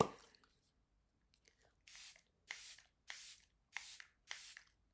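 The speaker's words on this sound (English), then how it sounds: "I'm going to go in with my setting spray" Five short, crisp hisses of setting spray misted onto a face follow one another at a steady pace after a quiet pause, each burst close and soft.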